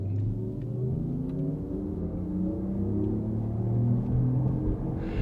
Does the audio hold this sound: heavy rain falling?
no